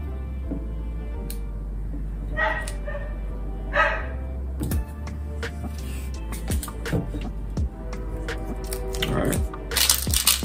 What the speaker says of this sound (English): If you hear my dog out there, that's my bad